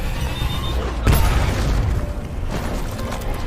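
A dull boom bursts out over a constant noisy rumble, followed by a second softer thud, sounding like a blast in a chaotic scene.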